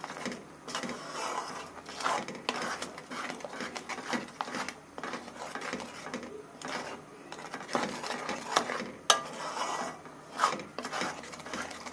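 Salted rice flour batter stirred in a pan for kadam phool pitha, a soft, steady scraping and rubbing that runs quietly and continuously with no pauses.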